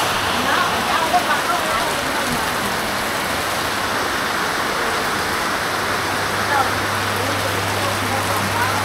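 Heavy rain pours steadily, a dense continuous hiss close by, with a low hum running beneath it for the whole stretch.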